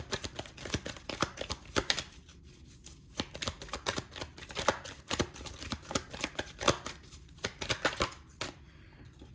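A deck of tarot cards is shuffled by hand over and over, with quick riffling bursts and sharp snaps in an uneven rhythm, close and fairly loud, with no talking.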